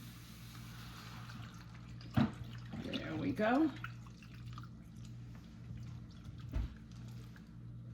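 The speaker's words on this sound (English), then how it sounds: "we're gonna go in with some bottled water. I'm gonna put it right on in." Bottled water pours into a cooking pot in one short splash of about a second and a half, close and fairly soft, followed by a brief clunk; a voice speaks briefly.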